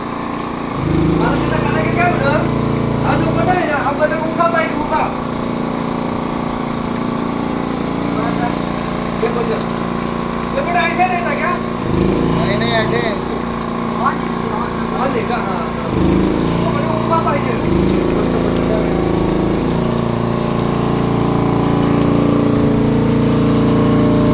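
Two construction machines run continuously at a house building site during tile and plaster work, a steady droning engine hum with intermittent higher whines, and people talk over it.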